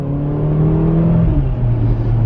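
Mercedes GLA 45 AMG on Blizzak winter tires driving in freezing weather, its engine humming steadily and close with a low tone that shifts slightly in pitch as the car moves along.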